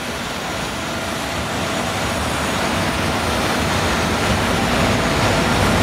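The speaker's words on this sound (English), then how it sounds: "Another late-running overnight train, this one from Rome, arrives in Palermo behind an E656 locomotive" An overnight train from Rome hauled by an E656 electric locomotive arriving in Palermo, heard as a broad, steady rumble and roar that swells slightly as it draws nearer, with no voices.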